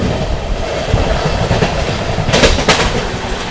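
22361 Patna Amrit Bharat Express runs through Panki Dham without stopping in heavy rain, a steady loud rumble of wheels on rail with a couple of sharp clacks near the end.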